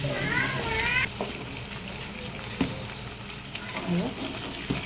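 Capsicum with curry leaves frying in a pan, a steady close sizzle with a few stirring knocks, heard beneath people talking, including a voice.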